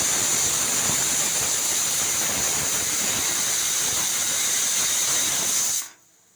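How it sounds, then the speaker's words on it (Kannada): A loud, continuous high-pitched steam whistle hisses from a pressure cooker cooking mutton sambar, holding steady for several seconds before cutting off abruptly. "ವಿಸಿಲು ಬರಲಿ ಇನ್ನೊಂದೆರಡು ಬರಲಿ"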